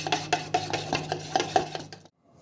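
A spoon stirring spice mix into potato wedges in a home kitchen bowl: about eight rhythmic scraping strokes, close and fairly quiet, that stop abruptly after two seconds.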